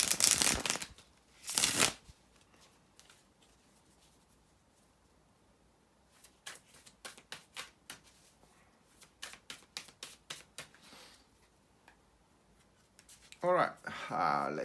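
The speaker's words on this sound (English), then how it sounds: "bear with me a second, guys, to shuffle the tarot cards." Tarot cards are shuffled in quick, papery riffling bursts, with brief louder flurries at the start and end, heard close up between quiet pauses.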